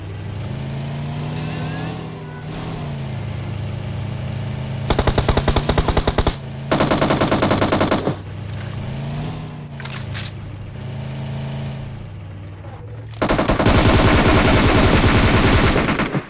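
Rapid bursts of automatic gunfire in a battle royale game, fired at a moving vehicle, loud and close, alternating with a droning engine between volleys and ending in a long sustained burst.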